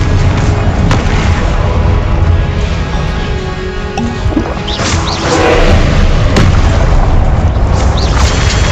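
Explosive spell impacts during a Hogwarts Legacy battle, including Confringo blasts: a dense, loud stretch of booming crashes and thwacks, with sharp hits scattered over a continuous rumbling din.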